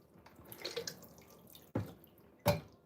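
Tap water runs and splashes in a sink during hand washing, a soft continuous trickle with two louder splashing bursts near the end, close by with no talk.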